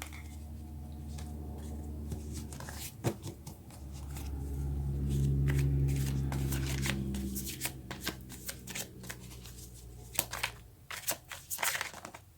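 Tarot cards being shuffled by hand across the whole stretch, with a soft riffling whir and repeated sharp card snaps and taps, close and fairly quiet, with no talking.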